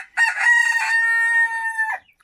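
A young rooster crows once, close and loud, a strained, slightly cracking cock-a-doodle-doo lasting about two seconds.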